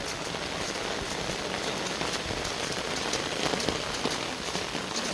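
Rain falls steadily over a tea garden on a rainy day, an even, dense patter of drops on leaves and surfaces, moderately loud and continuous, with no voices.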